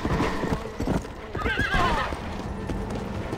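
Quick, close hoofbeats of a galloping horse in the video game Red Dead Redemption: Undead Nightmare, broken midway by a loud, wavering neigh.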